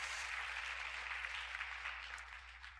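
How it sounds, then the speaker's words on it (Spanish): Congregation in a church breaks into sustained, fairly even applause that holds for a few seconds and then tapers off gradually, moderately loud with no talk over it. "¿Cuántos le dan un aplauso al Señor por eso?"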